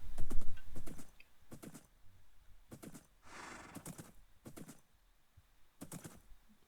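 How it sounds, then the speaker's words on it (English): Hooves clip-clop in short, steady bursts from a horse in Minecraft, with a brief whinny in the middle, fairly close and clear with no talk over it. "now that we got our trusty horse"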